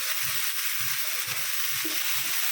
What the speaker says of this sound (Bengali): আলু আর পেঁয়াজ রান্না করে নিচ্ছি শাকগুলো আমি কুচি কুচি করে কেটে নিয়েছি এটা দেখতে পাচ্ছেন মেথি শাকগুলো এখন দিয়ে দিলাম